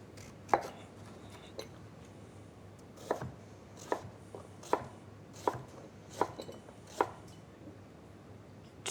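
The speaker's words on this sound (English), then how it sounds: "Dice into cubes." A knife dices swede into cubes on a cutting board, a series of about ten crisp, separate chops at an uneven pace, close and clear, with no talking.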